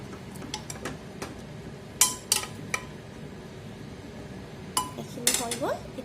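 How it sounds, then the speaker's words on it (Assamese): A metal pressure cooker lid is fitted on in a home kitchen during vegetable cooking: scattered sharp metallic clinks and knocks, a few louder clanks among quieter taps, over a low background. "এয়া মই প্ৰেছাৰ কুকাৰৰ ঢাকন লগাই দিলোঁ।"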